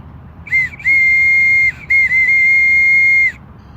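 A handmade whistle gives two clear, loud, steady blasts. The first is short and the second is longer, with a brief gap between them and no background sound.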